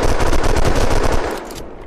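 Rapid automatic gunfire in the game Unturned, a loud, dense burst of repeated shots for over a second before cutting off and fading, no talking.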